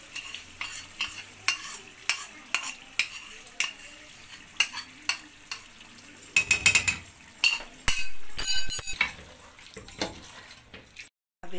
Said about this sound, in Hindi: अब ये दही डालेंगे। चूल्हा बिल्कुल स्लो कर दिया। ये फेंटा हुआ दही है।